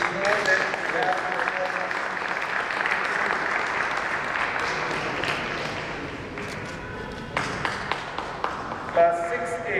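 An audience claps through a school annual day prize announcement, a dense round of applause that thins out toward the end as a voice comes back in.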